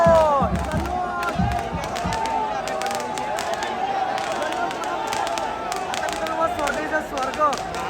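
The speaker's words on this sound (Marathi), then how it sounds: "आता बघा जल्लोष" A big festive crowd cheers and shouts continuously at a palkhi procession in Panvel, with loud overlapping voices, whistles and sharp bangs dense throughout.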